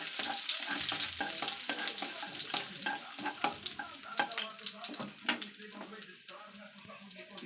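Garlic and onion frying in a pan, a steady sizzle with scraping stirs and clinks, loud at first and then thinning into crackles with gaps, while someone talks quietly nearby.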